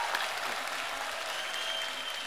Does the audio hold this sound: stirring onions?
no